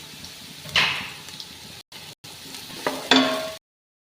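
Onion, carrot and curry leaves sauté in a pan for Kerala-style ghee rice, giving short bursts of scraping stirring over a soft sizzle, broken by two brief silent gaps.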